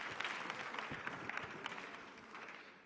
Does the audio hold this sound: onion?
no